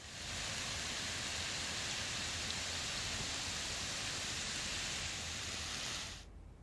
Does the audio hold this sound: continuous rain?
yes